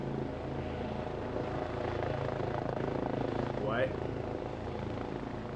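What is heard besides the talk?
helicopter in a video game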